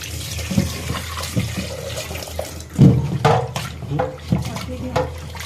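Tap water running and splashing in a sink while a fish is rinsed and cleaned by hand, with irregular bursts of flow and handling noises, close and moderately loud.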